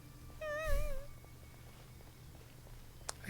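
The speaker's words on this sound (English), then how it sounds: "Oh, it's a kitty." A cat meows once inside the Genshin Impact video game, a clear, wavering cry with a slight rise and fall, over a low steady background hum. A faint click follows near the end.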